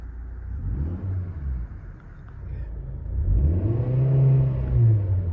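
Maruti Suzuki Swift CNG engine revving under a light throttle press, a low steady idle rumble that swells into a rising, droning rev, close and loud with no talk.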